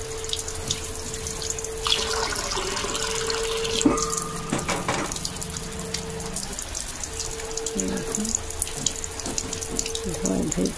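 Running tap water splashes continuously into a kitchen sink while nuts and chickpeas are rinsed by hand, with intermittent clatter and a steady tone running beneath.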